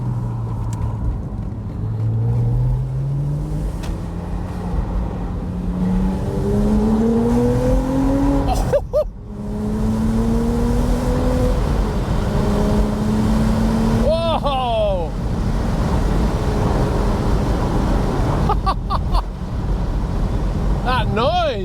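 A Porsche Spyder with its standard exhaust drives on country roads, the engine repeatedly rising in pitch through the gears with sharp revs and gearshift breaks, loud and close, with someone talking over it.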